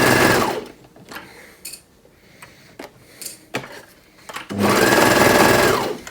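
A quiet sewing machine stitches a dart on a plus-size dressing gown, running in two loud, close bursts at the start and end with light handling clicks and taps between.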